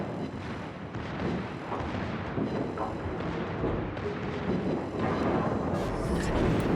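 Heavy naval gunfire in World of Warships from the high-caliber guns of the German battleship Pommern, a dense rumbling barrage of deep booms and blasts that keeps going loud and steady throughout, with no voices.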